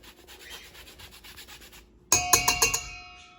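Soft, rhythmic rasping as a zester scrapes across fruit peel, followed by several sharp metallic taps and a ringing tone as the tool is knocked to clear it, close and clear with no talk.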